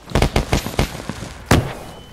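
Fireworks explode in the DayZ video game: a rapid string of sharp, loud bangs and crackles, then a single heavier blast about a second later, fading into a light crackling tail with no talk.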